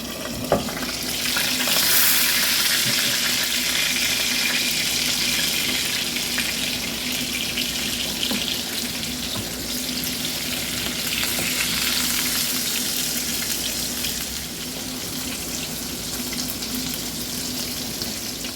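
A mushroom burger patty fries in a pan with a dense, steady hiss and crackle that carries on for nearly twenty seconds, close and loud with faint splashy texture and no voices.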